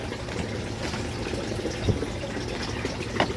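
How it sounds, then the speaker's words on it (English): Warm water poured steadily into a container to soak a grow medium, a continuous close gushing fill with no talk. "Soak in warm water 60 seconds."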